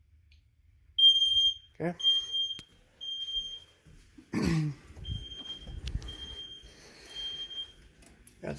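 A fire alarm system's smoke detector on an i4 panel sounds in repeated high electronic beeps. It keeps going off under a low-frequency sounder, and a person speaks briefly over it.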